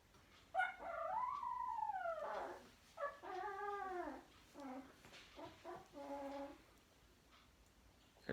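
A two-week-old American Bulldog puppy, a brindle-spotted white female, whimpers and whines in a series of rising and falling high-pitched cries, fairly faint and close, with short pauses between calls.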